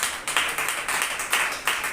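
A church congregation claps at a Sunday service, hands striking together in a steady, even rhythm of about six claps a second, loud and close with no talk over it.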